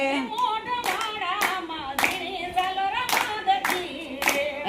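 Steady rhythmic hand clapping keeps time through a devotional aarti song, the sharp claps falling at a regular beat over continuous singing.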